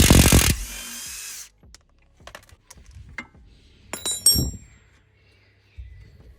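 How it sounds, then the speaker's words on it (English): A spanner works loose a bolt on a Subaru Impreza WRX during a brake pad change, with a burst of loud noise followed by scattered metallic clinks, taps and a ratcheting scrape near the end. "you put a spanner on this side and then you loosen it off on this side."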